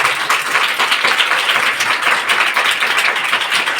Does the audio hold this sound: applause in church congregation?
yes